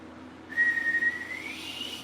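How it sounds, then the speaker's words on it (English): A single sustained whistle rises slightly in pitch and holds for about a second and a half, clear and fairly loud against a quiet background. "Yep, again, that whistle"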